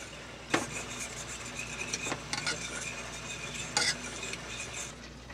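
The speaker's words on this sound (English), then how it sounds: "you got to keep stirring the gravy, else she'll stick to the bottom" Gravy being stirred in a pot at a hunting camp, a steady scraping stir with a few sharper clinks of the utensil against the metal, faint and continuous.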